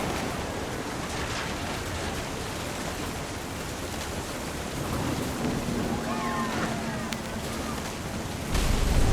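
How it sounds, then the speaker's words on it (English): Steady heavy rain hisses throughout a stormy scene in the video game What Remains of Edith Finch, with low thunder rumbling underneath and swelling louder at the close. "The thunder sounded much too close and full of angry power."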